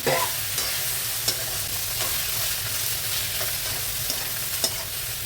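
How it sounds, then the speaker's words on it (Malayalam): Clam meat stirs and fries in a pan, a continuous sizzle with periodic scraping taps from a spoon or spatula, close and fairly loud, no voices. "നമുക്കത് നല്ലതുപോലെ ഇളക്കി അത് മൂപ്പിച്ച് കൊടുക്കാം."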